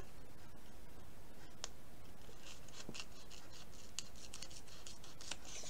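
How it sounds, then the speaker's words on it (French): Scissors trim excess sticker paper in a few quiet, close snips, interspersed with faint rustling and small clicks of the paper, without any talk. "On coupe ce qui dépasse."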